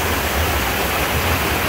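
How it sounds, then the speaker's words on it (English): A waterfall at Hidden Valley, Emerald Cove roars in a steady, dense rush of falling water close by, with no voices over it. "Got that nice waterfall there."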